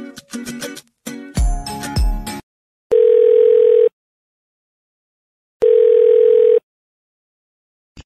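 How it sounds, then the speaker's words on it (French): A telephone call goes unanswered, two identical steady ringback tones about a second long separated by silence, preceded by a short burst of electronic beeps and jingling tones. "Pourtant ça sonne normalement mais il ne décroche pas depuis des semaines."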